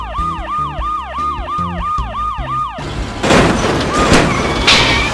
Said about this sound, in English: you'll need to turn your siren on and bump him to get him to leave